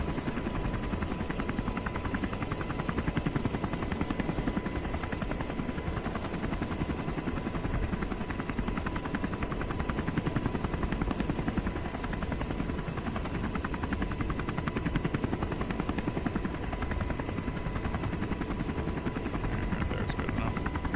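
Video game helicopter: a steady, dense rotor and engine roar that stays constant throughout and sits a little distant in the mix.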